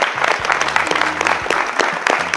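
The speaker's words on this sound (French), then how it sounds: "On peut l'applaudir" An audience claps in a steady, dense burst of applause at a French game show where contestants cram people into a car, the clapping full and continuous throughout with no voices standing out.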